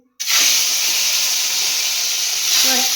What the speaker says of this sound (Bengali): পান্তা ভাত খাওয়ার জন্য মাছ ভাজা করব